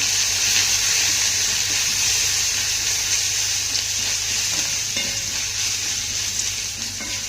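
Vadas stir-fried with onion and ginger-garlic paste in a pan, a dense, even, loud sizzle holding steady throughout with faint stirring underneath.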